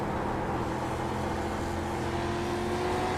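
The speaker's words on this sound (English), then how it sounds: "You just hear that throttle and the acceleration and the braking." Heard from a helmet cam, a race car engine drones loud and steady at South Boston, with a rising tone of throttle and acceleration running continuously and no talking.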